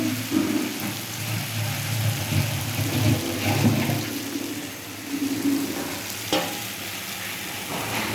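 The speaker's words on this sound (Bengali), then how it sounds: "এবার এটাকে একটু ভালো করে কষাবো, কষিয়ে তারপরে এঁচোড়টা দিয়ে দেবো" Spices stir-frying in oil for a spicy young jackfruit curry, a steady close sizzle with swells and scraping strokes of a spatula, no speech.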